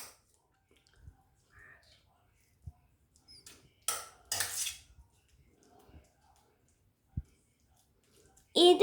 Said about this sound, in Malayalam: ഇനി ഒരു സ്പൂൺ വെച്ചിട്ട് നമുക്ക് സ്പാച്ച് ചെയ്യാം